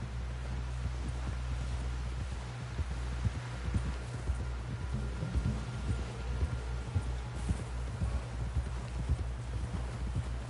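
A horse's hooves in the video game Red Dead Redemption 2 pound in a quick, steady galloping rhythm over a constant low hum, close and continuous with no talking.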